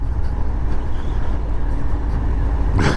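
A 2019 Harley-Davidson Fat Bob 114 motorcycle on a test ride along a country road, giving a steady, loud, close engine and wind roar throughout, with a brief rushing burst near the end and no talking.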